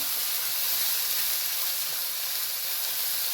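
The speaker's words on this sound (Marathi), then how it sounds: "त्यामध्ये आता आपण हे बारीक केलेलं वाटण घालून घेणार आहोत आता आपण हे छान परतून घेणार आहोत" Ground masala paste sautés in a pan before spiny gourd is added, producing an even, continuous hissing sizzle that stays loud and close from start to finish with no voices.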